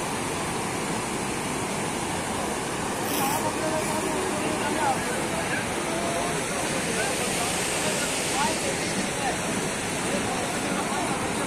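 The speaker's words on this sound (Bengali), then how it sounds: "এখানে গঙ্গার কি স্রোত দেখেছো" The Ganges at Gangotri rushes past in a loud, steady roar of turbulent water, continuous broadband churning throughout with people talking faintly underneath.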